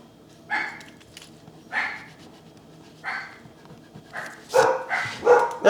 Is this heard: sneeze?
no